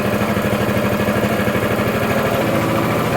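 An EFcut C30 engine idles steadily while warming up with the choke on, a loud, continuous, evenly pulsing mechanical drone close by.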